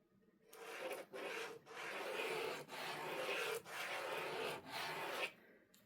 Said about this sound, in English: And I'm just going to draw it.